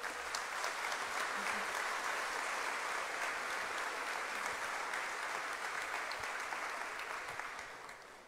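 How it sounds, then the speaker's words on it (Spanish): Sustained, loud applause from a crowd at a municipal government report event, broad continuous clapping that stays strong for several seconds before tapering off slightly at the very end. "para quien pido un fuerte aplauso"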